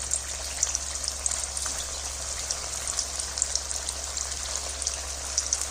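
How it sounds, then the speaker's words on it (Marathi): Spinach vadas sizzle in hot oil in a kadhai over medium heat, a steady close crackling hiss with scattered small pops throughout, no voices. "आता जे आपण वडे तयार करून घेतले होते ना ती ह्याच्यामध्ये आपण टाकून घेणार आहोत आणि मध्यम गॅसवरती छान असं तळून घ्यायचं"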